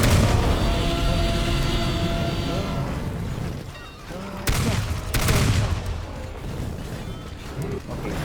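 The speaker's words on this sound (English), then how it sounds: "I'm gonna shoot his legs." Gunfire aimed at Mecha Godzilla's legs in the game Teardown, loud sustained shooting with crashing destruction, then two sharp blasts near the middle.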